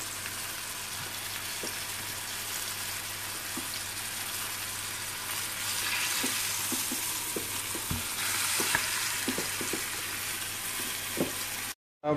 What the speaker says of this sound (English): I've got my fire nice and high, and I'm just trying to seal this lamb quickly.